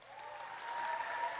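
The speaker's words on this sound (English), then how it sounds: "Lastly, one last big round of applause for Maazen and Usra." Wedding guests at a walima reception give a steady round of applause, a continuous wash of clapping from a fairly distant crowd.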